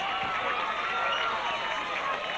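A high school football crowd at a 1991 Nevada AA semifinal in Boulder City cheers after a fumble recovery, a steady, distant roar of many voices filling the stands.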